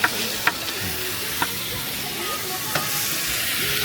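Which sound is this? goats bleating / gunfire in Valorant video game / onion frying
onion frying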